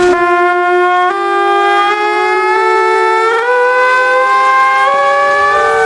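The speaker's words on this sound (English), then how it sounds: "It's a siren that for 300 years has told anyone in the park that the water games are about to begin" A loud, sustained wailing water-powered trumpet siren in a park, with a bright, brassy tone whose pitch slowly rises and wavers, sounding alone and close.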